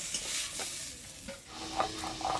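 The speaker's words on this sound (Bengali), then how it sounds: "সিমগুলো দিয়ে দিব দেবো লবণ কালো জিরা পেঁয়াজ রসুন কাঁচা লঙ্কা দিয়ে সিমটা ভালো করে ভাজা ভাজা করে নিলাম" Flat beans being fried in a pan with salt, black cumin, onion, garlic and green chilli: a quiet, steady sizzle broken by a few spoon-stirring scrapes and knocks.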